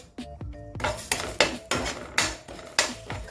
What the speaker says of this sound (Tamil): இது எல்லாத்தையும் நம்ம ட்ரை ரோஸ்ட் பண்ணிடலாம்.